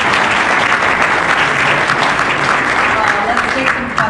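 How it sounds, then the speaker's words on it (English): Sustained, dense audience applause at a panel discussion on student success and talent retention in the Midwest, loud and steady throughout, tapering slightly at the very end. "Let's give Jamie a round of applause."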